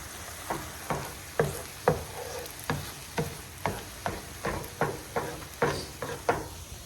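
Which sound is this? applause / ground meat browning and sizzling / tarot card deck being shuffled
ground meat browning and sizzling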